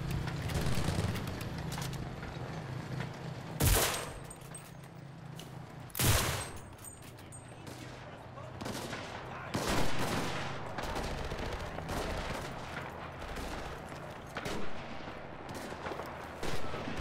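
Gunfire rattles through a World War II battle in the video game Enlisted, with sustained bursts and distant volleys punctuated by a few loud, sharp nearby shots standing out above the background combat.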